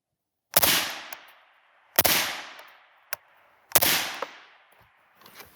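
Three suppressed rifle shots from a Rugged Surge suppressor firing Winchester Match King ammunition, each a sharp close crack with a decaying outdoor tail, spaced about one and a half seconds apart, with faint clicks and handling noise between.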